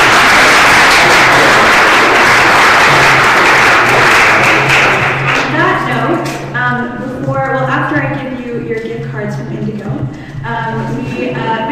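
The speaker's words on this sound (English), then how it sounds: "So if we could just have a round of applause." Applause from a student bioethics society audience fills the first several seconds as a dense clapping wash, then fades as a voice begins talking over the last of it.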